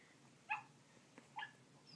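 Two short, faint dog barks played from an iPad app, spaced about a second apart against quiet background.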